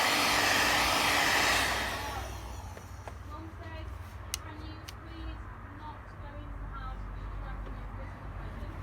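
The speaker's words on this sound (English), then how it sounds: "with the heat gun." Heat gun blowing hot air over a car wiring loom on an Audi A2 TDI, a loud steady airy roar for about two seconds that then drops to a quieter background hum with faint clicks and low room noise.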